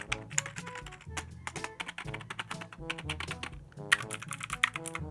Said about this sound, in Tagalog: dito naman tayo sa membrane keyboard which is itong bago nga natin, itong RAKK.